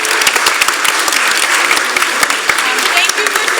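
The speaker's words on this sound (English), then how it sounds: "I'm going to give a round of applause for my staff one more time" A theater audience at a summer camp curtain call claps loudly and continuously, with crowd voices mixed into the applause.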